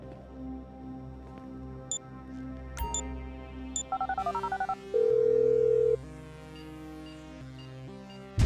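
In GTA 5, a mobile phone is dialed with a short run of beeping keypad tones, then a steady held tone. Brief clicks and other game sounds surround it.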